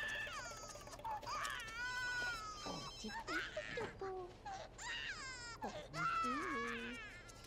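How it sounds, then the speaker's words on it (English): A telephone rings in The Sims life-simulation game, its electronic trilling tones repeating over game music and a crying baby, with a voice talking alongside. "Phone's ringing."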